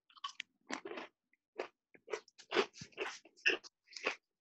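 Crisp, crackly crunches repeat in irregular bursts as a crusty baguette is bitten and chewed up close, with quiet gaps between each bite.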